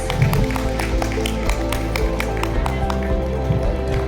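An audience at a school's annual prize distribution applauds, a steady, dense patter of clapping that holds for the whole moment alongside a faint musical tone.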